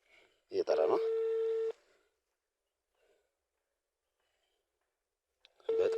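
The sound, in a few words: phone call ringing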